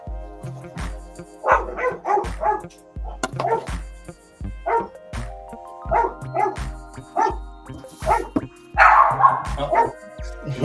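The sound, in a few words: Chihuahua dog growling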